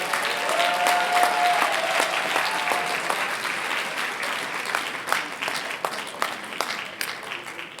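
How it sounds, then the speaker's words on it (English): Convention audience applause for Reverend Jesse L. Jackson Sr. at NAN's Convention, a dense sustained clapping from a large crowd that stays loud, then thins into scattered claps toward the end. "Give him a hand clap of praise."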